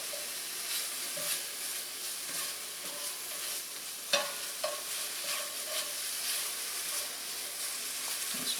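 Shaved rib eye sizzles in a hot pan, a constant bright hiss broken by scraping, clinking stirs from a utensil. The frying is close and clear, with no talk over it.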